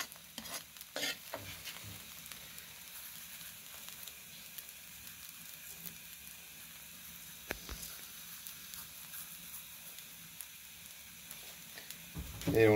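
Frying and stirring in desi ghee, a steady soft sizzle with occasional scraping stirs and a louder clatter near the end, fairly quiet and without talk.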